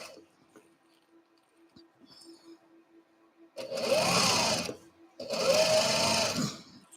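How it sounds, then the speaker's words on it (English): Sewing machine running in two sustained bursts of rapid stitching, each lasting about a second, close and loud after a quiet stretch with faint background. "So I have titled this stream Sewing Nonstop because it's just basically me sewing"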